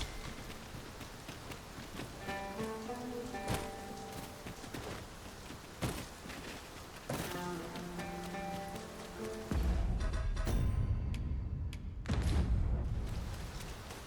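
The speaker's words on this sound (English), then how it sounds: "This downpour seems unlikely to abate." Heavy downpour in the video game Dragon's Dogma: a steady, dense rain hiss under a soft musical backdrop, swelling into a louder, rumbling wash in the last few seconds.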